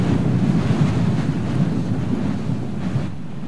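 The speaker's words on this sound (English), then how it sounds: "it is difficult at best to hear me right now because of the wind" Loud, broadband rushing wind roars steadily in the Star Citizen video game, with a low gusting rumble that eases slightly toward the end.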